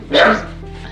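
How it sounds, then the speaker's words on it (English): A single sharp dog bark, close by and loud, followed by a low, quiet background hum. "So I had to cut away then because my dog was barking."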